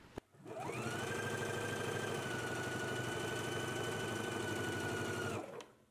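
A sewing machine stitches a seam at steady speed, its fast even mechanical whirr and clatter starting after a click, running continuously for several seconds, then stopping, close up and alone.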